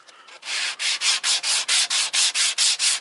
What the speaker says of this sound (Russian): Я даже не давлю, просто вожу бруском туда-сюда.